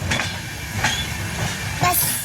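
Train pulling in at Guwahati station, running about twenty minutes late: a steady rolling rumble with a few sharp metallic clacks and a brief high squeal at the end, moderately close, with no talk.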